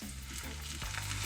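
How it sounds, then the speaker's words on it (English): Saltfish fritters fry in oil over a low flame, a soft, steady sizzle with faint crackles, close and quiet with no talking. "So I'm frying under a low flame until they are brown on both sides."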